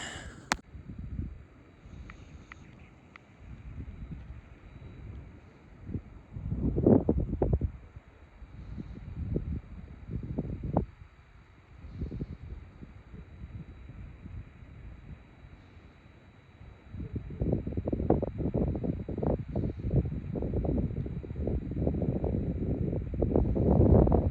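Strong wind gusts across a mountain campsite, buffeting the microphone in rough, roaring bursts that come and go before settling into a sustained heavy blast.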